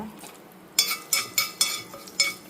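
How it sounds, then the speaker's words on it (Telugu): Four garlic cloves fry in a pan for a chutney, a steady low sizzle broken by five sharp, evenly spaced scrapes or taps of a spoon against the pan, close by with no talk. "ఒక నాలుగు రెబ్బలు వెల్లుల్లిపాయ ఇవి కొంచెం వేగిన తర్వాత"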